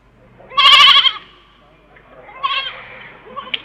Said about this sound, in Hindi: उन लोगों के पेट से बकरी की आवाज आई